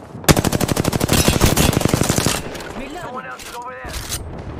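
Rapid automatic gunfire in Apex Legends as one three-man team pushes another, a loud sustained burst of evenly spaced shots for about two seconds, then fainter sporadic shooting while a player speaks.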